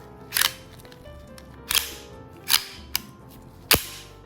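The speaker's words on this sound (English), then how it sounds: "Put the mag back in." Bersa Firestorm .380 pistol being reassembled after cleaning: the magazine seats and the slide and trigger are worked, giving five crisp metallic clacks and snaps spaced about a second apart, close and distinct.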